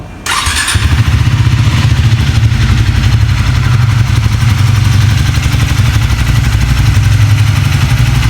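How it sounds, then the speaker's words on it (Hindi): A Triumph Speed T4 motorcycle cranks over and catches, then settles into a steady, throbbing idle with a mechanical clatter on top, close and loud with no talking. "बाकी एक बार बाइक को स्टार्ट भी करके दिखा देते हैं, बाइक का साउंड सुन लीजिए।"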